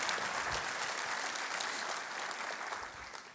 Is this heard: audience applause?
yes